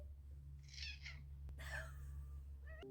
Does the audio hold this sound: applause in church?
no